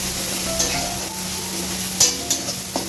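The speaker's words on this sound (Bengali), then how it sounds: "অল্প একটু কাশ্মীরি লঙ্কার গুঁড়ো আর আধা চামচ হলদির গুঁড়ো দিয়ে ভালো করে মশলাটা কষিয়ে নেব" Chilli powder, Kashmiri chilli and turmeric sautéed in a pan, a steady close sizzle broken by a few quick scrapes of a spatula stirring, no talking.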